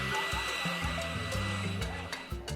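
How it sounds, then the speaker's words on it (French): A hair dryer runs continuously at close range with a steady whirring blow, overlaid with tonal background music. "Elle aura besoin d'un sèche-cheveux."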